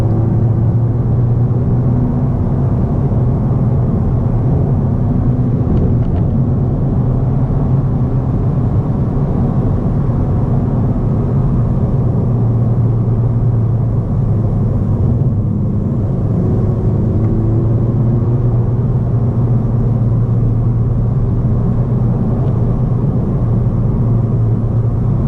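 A 2017 Honda Civic Si four-door on winding roads, heard from inside as a steady, loud low engine and road drone that stays even throughout, with no talking.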